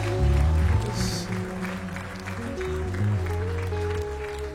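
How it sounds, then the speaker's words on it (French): A church congregation claps and cheers for Jesus, the applause mixed with held musical tones and a crowd murmur at moderate loudness. "Acclame Jésus alors encore une fois."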